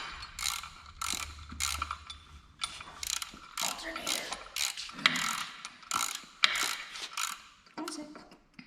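A ratchet tightens alternator mount bolts on an LS engine in a family garage, giving repeated close bursts of rapid metallic clicking with short pauses between strokes.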